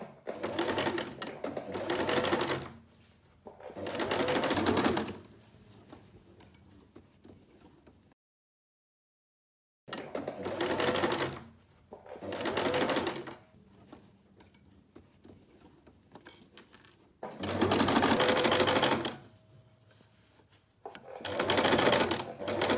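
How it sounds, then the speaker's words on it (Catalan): A sewing machine runs in several loud bursts as it stitches a seam 1 cm inside the shoulder of a sleeveless garment with facings, with a brief silent pause between bursts. "ara ho anem a cosir a la màquina"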